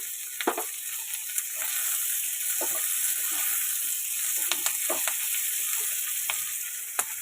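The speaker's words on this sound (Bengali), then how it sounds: "ভেজে নিয়েছি, এবার দিয়ে দেবো ক্যাপসিকাম।" Capsicum frying in a pan with onion for a pasta dish, a steady hiss of sizzling oil broken by intermittent spatula clicks and stirring scrapes, close up with no talk.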